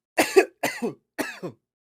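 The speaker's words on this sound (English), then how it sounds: "cough" Three short, close coughs in a row, each a quick double burst, with brief pauses between them.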